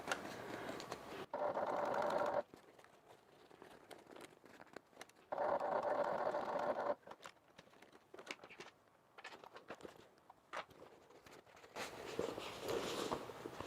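A sewing machine top stitches a bag in two or three bursts of steady, close mechanical whirring, with fabric handling, rustles and small clicks in the pauses between runs.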